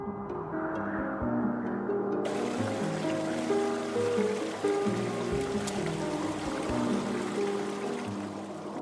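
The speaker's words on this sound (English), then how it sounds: "The sound of flowing water is muffled as ice limits the channel" Stream water flowing beneath an icy edge in a frozen Himalayan landscape in Nepal, a steady continuous burble and rush that turns brighter and fuller after a couple of seconds, with no voices.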